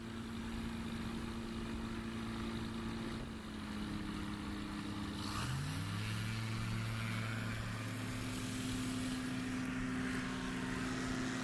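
A light STOL aircraft, an S7 at a short-takeoff practice airpark, makes a continuous propeller engine drone that shifts pitch partway through as it powers up and lifts off short, loud and steady throughout.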